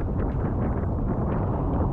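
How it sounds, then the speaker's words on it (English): Strong wind gust roaring across an RS100 sailing dinghy out on the water, a loud steady rush of buffeting wind over the microphone, with no talking. "you see this gust coming now is quite a big gust"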